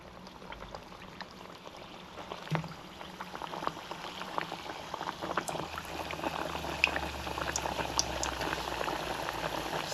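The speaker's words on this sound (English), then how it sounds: "Now we're going to fry our plantain 2 to 3 minutes until golden brown." Green plantain slices frying in hot oil for a Jamaican pressed plantain dish, giving a soft, continuous bubbling sizzle with scattered crackles that grows slightly denser over time.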